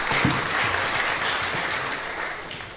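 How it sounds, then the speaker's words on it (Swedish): Audience at a church panel event on politics giving brief applause, a dense, even wash of many hands clapping that holds steady and starts to fade, with a faint voice underneath. "Vi tar en kort applåd"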